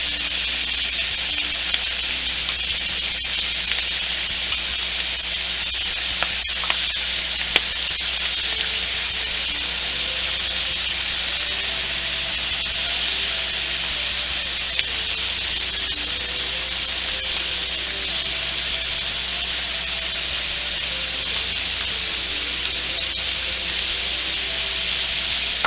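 Butter lemon shrimp sizzle loudly on a grill while being basted, a dense continuous hiss and crackle with occasional sharper pops, no voices over it.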